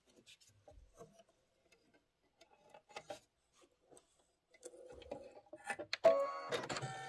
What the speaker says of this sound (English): this is 7 minutes of stitching